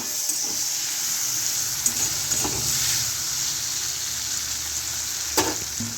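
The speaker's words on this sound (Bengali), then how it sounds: "আমি এবার সর্ষে বাটাটা দিয়ে দিচ্ছি, তারপরে নেড়ে নেবো।" Mustard paste frying with bitter gourd and onions, a steady moderate sizzle with occasional spatula scrapes and taps as it is stirred, no voices.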